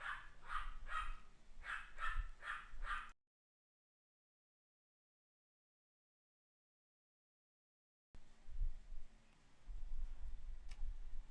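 Dogs bark in short clustered bursts at a moderate distance, a few rapid barks at the start, then a gap of silence before more faint barking and background noise return.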